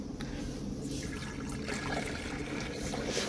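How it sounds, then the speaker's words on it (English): Liquid pours from a laboratory flask into a large beaker during a chemistry color-change demonstration, a soft continuous splashing trickle lasting a few seconds, fairly faint and with no talking. "Here we are pouring it out."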